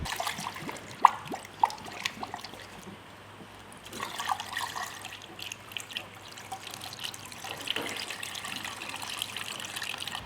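Water trickles and pours into the coolant bottle of a 2007 Ford Focus 1.6 during a cambelt job, a faint, continuous liquid splashing with occasional drips, close by and with no talking.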